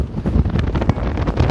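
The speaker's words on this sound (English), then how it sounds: "windy day" Gusty wind buffets the microphone outdoors at a farm demo plot just after a hurricane has passed, a rough, rumbling roar that swells and dips without pause.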